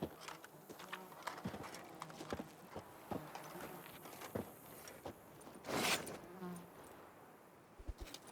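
Horse hooves clip-clopping in a trot in The Witcher 3: Blood and Wine, a rhythmic series of clear hoof strikes near the listener with a brief louder rush partway through, faint ambient sounds behind.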